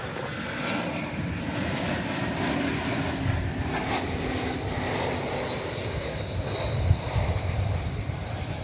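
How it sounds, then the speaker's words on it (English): An Airbus A321 airliner, American Flight 2070 from San Antonio, lands at DFW Airport, a steady, broad jet roar with wind noise that holds throughout and swells slightly near the end. "We now bring you an Airbus A321 coming in from San Antonio, Texas, American Flight 2070"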